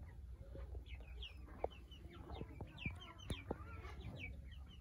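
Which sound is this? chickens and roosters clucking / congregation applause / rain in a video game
chickens and roosters clucking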